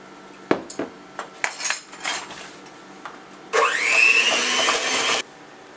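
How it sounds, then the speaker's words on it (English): A utensil stirs vanilla extract into strawberry shortcake batter in a bowl, first with several scattered clinks and taps, then a steady, loud scraping swirl for close to two seconds before it stops abruptly. "we're just going to stir that in to our batter"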